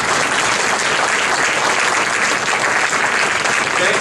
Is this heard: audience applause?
yes